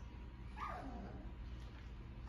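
A small female puppy gives a faint, brief whimper that slides downward in pitch, heard once over a low steady background hum.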